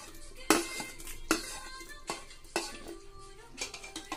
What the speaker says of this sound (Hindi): अच्छे से मिक्स कर देंगे और इसको 2 से 3 मिनट पकने देंगे।